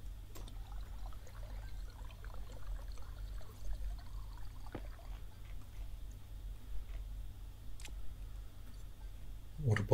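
Water pours into a bottle in the space survival game Stationeers, a soft, faint trickle running under quiet ambient ticking and occasional small clicks.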